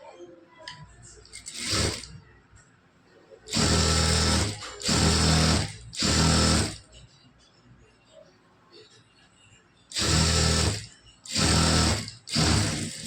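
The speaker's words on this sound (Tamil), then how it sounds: "இந்த எட்ஜில் இப்படி வச்சு நீளமாக இப்படி தையல் போட்டுக்கலாம்" A sewing machine stitches along the edge of a blouse fabric in six loud, close bursts of steady whirring, each a second or so long, with quiet pauses and faint handling noise between runs.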